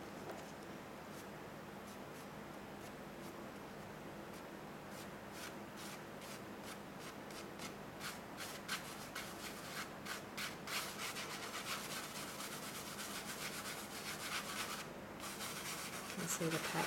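Fine glitter spread and rubbed by hand across a hotfoil stamp, a steady soft scratchy rubbing with brief brushing strokes, close and faint throughout.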